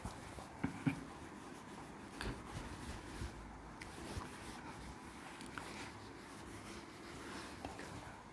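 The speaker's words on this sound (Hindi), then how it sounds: "मेरे पास यही जगह, यहीं पे लिख देता हूँ" Chalk or marker writing on a classroom board during an electromagnetic induction lesson, with faint intermittent scratchy strokes and taps over a quiet room background, no talking.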